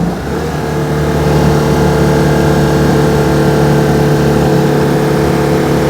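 A Citroën 2CV engine with an upgraded motor pulls hard up a hill, its steady, loud, buzzing drone holding a constant pitch close by with no talking over it.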